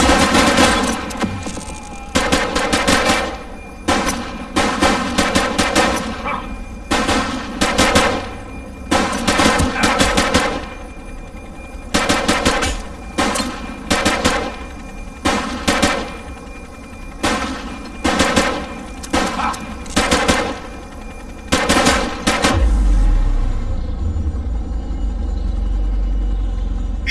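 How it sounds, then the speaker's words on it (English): Automatic gunfire in The Precinct video game, loud and close, comes in repeated rapid bursts separated by short gaps over nearly half a minute before giving way to a low rumbling hum, with no talking. "Light them up!"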